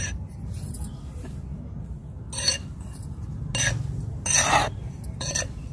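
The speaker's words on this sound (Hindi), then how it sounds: "इतना मैं कोकोपीट भी मिक्स कर देती हूँ ताकि मिट्टी बिल्कुल ये सॉफ्ट बनी रहेगी और इसे मिक्स कर देती हूँ" Potting soil is mixed by hand with cocopeat, producing several short, gritty scraping and rustling bursts separated by quieter pauses, close and moderately loud.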